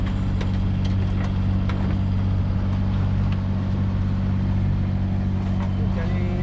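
The sailboat Maïe motors along under its engine with the mainsail up, giving a steady, loud low drone with a constant rumble that runs throughout, and faint speech sits underneath.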